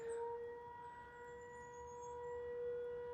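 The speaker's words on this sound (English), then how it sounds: "there's just this super loud siren" A loud, sustained siren wails steadily with a flat, unwavering tone, droning alone without any voices, at a retreat in Patagonia.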